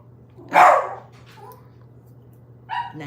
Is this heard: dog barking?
yes